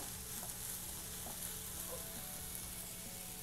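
Shark fish puttu with coriander sizzles and fries steadily in a pan on the stove, a close, continuous crackling hiss with no voices.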